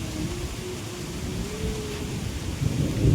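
Stormy weather in a rural courtyard: a low rumble of thunder rolls under steady rain and gusting wind, with no voices.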